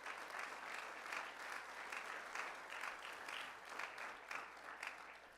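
A church congregation claps steadily and continuously, a dense wash of applause that stays even throughout without anyone speaking.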